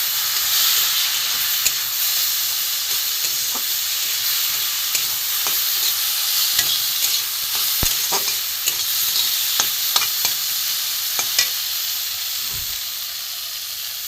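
Water splashed into frying spices for a small-fish chorchori, giving a loud steady hiss and sizzle with regular scraping stirs and light knocks of the spoon on the pan.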